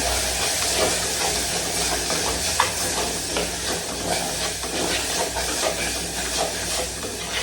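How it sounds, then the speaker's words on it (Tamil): Masala with kuzhambu spice powder sizzles and hisses steadily in a pan for a Tamil fish curry, a continuous frying sound with occasional scrapes of stirring. "நல்லா வதக்கிக்கலாம்."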